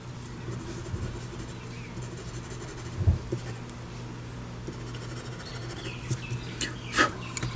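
A pen or pencil scratching jagged zigzag lines across paper, short scribbling strokes in bursts, close and fairly quiet over a steady low hum.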